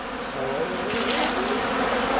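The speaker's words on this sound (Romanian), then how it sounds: "Albina foarte bine culege." Honeybees in February working a protein feed container set out at an apiary, a continuous close insect buzz with slight swells, plus a faint voice and a brief knock partway through.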